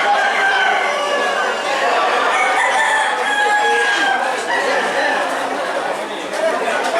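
Roosters crow over constant crowd chatter and nearby talking at the Bolu chicken market in Toraja, with clucking mixed into the dense, loud din.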